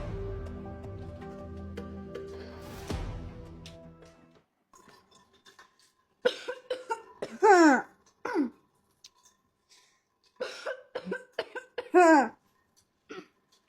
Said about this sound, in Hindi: इतना क्यों खांस रहे हो?